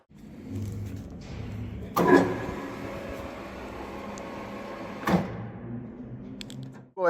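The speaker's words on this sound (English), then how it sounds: "We'll go ahead and put it under power. You can hear the head sounds great on it." A Goodway GW-1640 manual engine lathe runs under power in gear, giving a steady low mechanical hum throughout with two brief louder clunks partway through.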